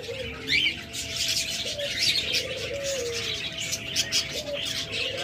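A pair of diamond doves sitting on eggs coo softly and repeatedly, with chirps from other cage birds and faint wing flutters mixed into a busy aviary background.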